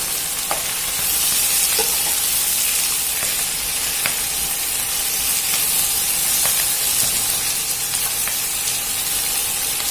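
Cabbage frying and browning in a pan, a constant hissing sizzle with light spattering pops and a few stirring taps, close and steady throughout without voices.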